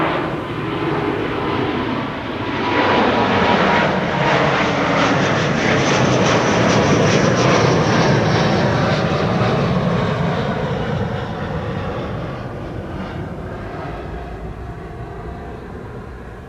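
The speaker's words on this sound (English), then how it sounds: "you're leaving right as the first 747 is about to take off" A KLM Boeing 747 takes off at Amsterdam Schiphol, a loud, steady jet roar that builds and holds, then slowly fades as the aircraft climbs away, with no voices.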